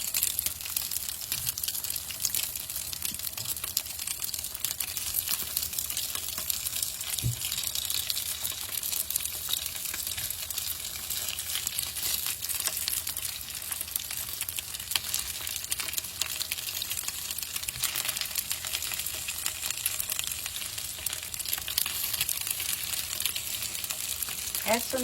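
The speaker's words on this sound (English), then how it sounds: "and fry them" Fara or pitha dumplings frying in a pan, giving a steady dense sizzle that carries on throughout with a few soft clicks and shifts, close and moderately loud.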